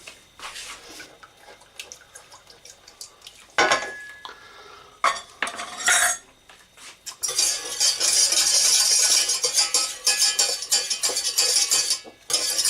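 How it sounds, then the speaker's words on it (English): A whisk scraping and clinking against a saucepan while stirring sweet and sour sauce until it thickens, with scattered metallic taps early on and then a loud, continuous rattling whisk sound. "I like to get in there with a whisk, because that keeps it nice and stops it from lumping up"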